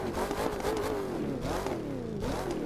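A Ford Mustang in The Crew 2 video game revs hard, its engine note rising and falling in loud, continuous sweeps with no talking.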